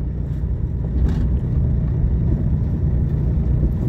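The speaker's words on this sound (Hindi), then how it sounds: "गाड़ी की आवाज़ भी आपको सुनाई दे रही होगी।" Car engine droning as it drives slowly uphill on a winding mountain road near Ranikhet, Almora, a steady low rumble with wind buffeting the microphone, close and continuous with no talking.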